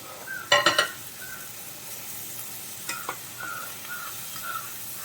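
Paneer is sautéed in a pan for veg pulao: a quick burst of sharp metallic clinks from a spoon against the pan, then scattered scraping stirs over a light, steady sizzle.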